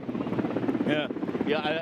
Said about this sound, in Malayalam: മൂന്നാമത്തെ ഹെലികോപ്റ്റർ കൂടി ഈ കൽപ്പറ്റയിലെ S K M J school ground ലക്ഷ്യമാക്കി വരികയാണ്